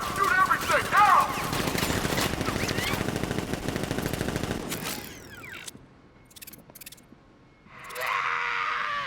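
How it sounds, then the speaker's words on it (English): Rapid automatic gunfire from the video game Batman Arkham Knight rattles in dense bursts, loud and close with mechanical clanks, then fades to scattered impacts and a shorter burst near the end. "Open fire! Shoot everything, now!"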